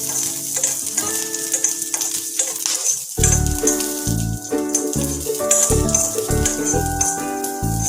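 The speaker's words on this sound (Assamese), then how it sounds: "বেছি ভাজিব নালাগে অকণমান ভাজিলেই হৈ যাব" Garlic and green chillies fry in a little oil, giving a continuous close sizzle with occasional scraping stirs and light clinks, over steady background music.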